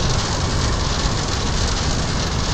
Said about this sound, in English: we have a lot of rain and stormy weather